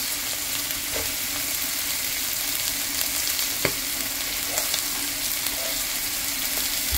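Liver with beans and carrots fries in a pan, giving a constant close sizzle with occasional soft clicks from stirring, steady and unbroken, with no voices.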